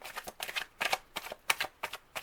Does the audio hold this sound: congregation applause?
no